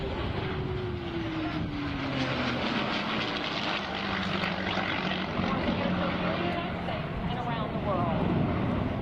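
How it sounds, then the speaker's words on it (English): A propeller-driven Mustang flies past in an Air Force Heritage flight display, a loud, steady engine drone with a slowly falling pitch as it passes, under continuous crowd and ambient noise. "always great to see the F-15 Mustang from the Heritage flight"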